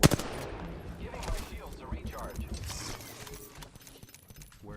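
Sniper gunfire in a battle royale video game: a loud shot bursts at the start, followed by more scattered shots and clattering game effects that fade toward the end, with no talking.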